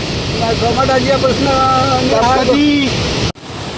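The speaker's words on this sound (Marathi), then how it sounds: "मस्तपैकी मार्लेश्वर नदीला पाणी आलंय बघा, किती भरपूर पाणी आलंय आज" The swollen Marleshwar river rushes past in flood as a steady, loud roar of water, with a voice heard talking over it throughout before a sudden brief cut near the end.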